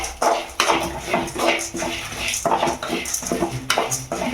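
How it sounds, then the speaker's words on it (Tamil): Red chillies, sesame and fenugreek are dry-roasted in a pan, with repeated scraping and stirring clatter of a utensil against metal, close and irregular. "காய்ந்த மிளகாய், வெந்தயம் எல்லாத்தையும் சேர்த்து நல்லா வறுத்துக்கணும்."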